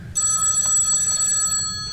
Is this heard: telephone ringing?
yes